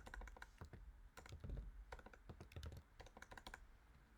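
Fingers type on a computer keyboard close by, tapping out quick irregular clusters of crisp keystrokes with brief pauses between bursts. No one speaks.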